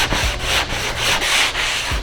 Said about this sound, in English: I'm gonna just keep sanding